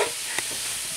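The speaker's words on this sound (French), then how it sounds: "Gwen est toujours occupée à mélanger." A plastic spoon stirs food in a pan over a soft continuous sizzle, with one brief scrape partway through.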